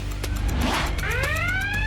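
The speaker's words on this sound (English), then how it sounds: "that's the high water level alarm" A high water level alarm sounds as a loud electronic tone that rises and sweeps upward, with steady harmonic lines after a brief noisy burst, over a constant low hum.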